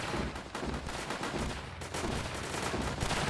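Guns fire nonstop in Northend Tower Defense, a WWII-and-zombies tower defense game. Dense rapid machine-gun fire overlaps into a thick, unbroken roar of shots.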